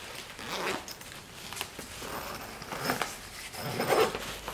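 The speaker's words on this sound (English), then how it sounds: "Go ahead, unzip and see what's in here." A backpack zipper is drawn open in several short ripping pulls, close and fairly quiet, during a mail unboxing with no talk over it.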